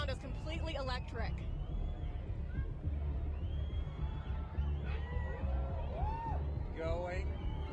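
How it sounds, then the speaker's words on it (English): An outdoor crowd watching a solar eclipse grows excited, with a low steady murmur and scattered whoops, shouts and children's cries rising from many directions, while people nearby talk over the noise. "Crowd's getting excited. The crowd, yeah, all around us, completely electric."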